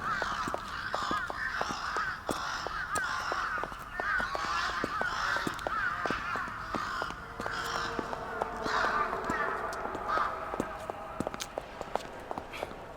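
Many crows cawing around a city street near a train station, repeated harsh calls over one another amid footsteps and low background bustle, with occasional voices.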